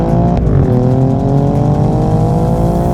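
An Alfa Romeo Giulia Quadrifoglio's exhaust in race mode drones loudly and close, with a brief blip of revs followed by a steady, deep engine note that holds for several seconds.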